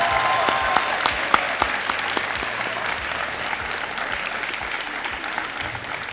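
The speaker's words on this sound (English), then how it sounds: "let's just go ahead and give a round of applause for Gael" Students and teachers applaud at a high school college signing ceremony, a full, steady round of clapping with a few sharp individual claps poking out early, gradually easing, with no talk over it.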